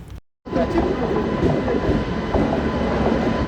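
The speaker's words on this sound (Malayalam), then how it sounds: "ഈ വരുന്ന ട്രെയിനാണ് ബാംഗ്ലൂർ കന്യാകുമാരി എക്സ്പ്രസ്" The Bangalore–Kanyakumari Express rolls into the station with a loud, steady rumble and faint clickety-clack of wheels, close by and continuous after a brief gap at the start.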